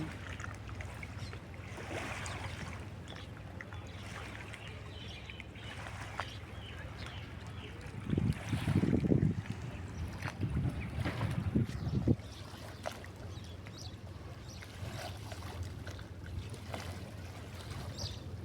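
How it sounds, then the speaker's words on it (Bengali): A trawler boat engine drones low and steady as it passes, swelling louder midway, with lapping water and faint birds in the background. "এখানে যে ট্রলারটা যাচ্ছে"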